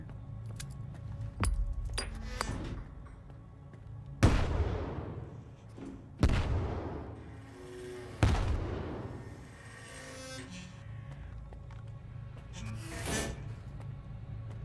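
A video game grenade goes off as several sharp, loud blasts spaced a couple of seconds apart, each decaying into a rumbling tail over a steady low background hum.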